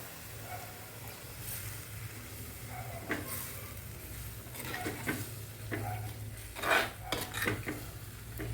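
Steady sizzling in a hot pan as water is added for prawn roast, with a spoon scraping and stirring, plus a few louder hisses and clinks; no voices.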